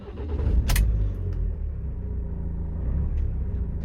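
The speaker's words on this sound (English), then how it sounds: "start the vehicle" A 2016 Ford Transit Custom van's engine cranks and catches, then settles into a steady low idle rumble close by.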